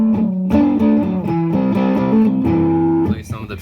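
Electric guitar riffs played through a Keeley Oxblood Germanium or Wampler Euphoria overdrive pedal, with tone, bass, gain and volume set to noon; sustained, mildly driven notes and chord changes ring steadily, ending with a brief pick scrape.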